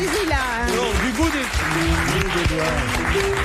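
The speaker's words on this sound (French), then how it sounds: "On peut l'applaudir du bout des doigts" Studio audience applause on a French TV game show, a dense continuous patter running under a man's speech throughout.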